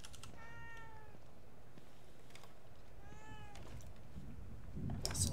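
Two distinct drawn-out meows from a cat in the video game The Evil Within 2, moderately close over a low ambient hum, followed by some faint background clatter near the end.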